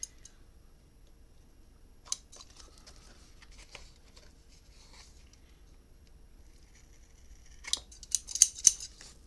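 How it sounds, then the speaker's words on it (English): Crafting scissors snip through paper for a memory book in scattered, close, crisp clicks, building to a quicker burst of several cuts near the end over a quiet room. "I really need some new crafty scissors."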